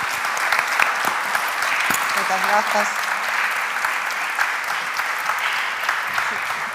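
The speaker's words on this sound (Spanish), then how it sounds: "merece un aplauso de despedida" Sustained audience applause fills the room as a farewell ovation at an event, steady and fairly loud throughout, with a brief spoken thank-you audible over the clapping.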